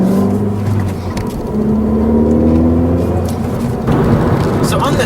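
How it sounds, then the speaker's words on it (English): Inside a 2016 Ford Fiesta ST, intake sound piped into the cabin by the sound symposer gives a steady, moderately loud engine drone that swells slightly, with a voice talking over it. "Ford installed this sound subposer system, and what that does is it funnels intake sound into the cabin, and it sounds really cool"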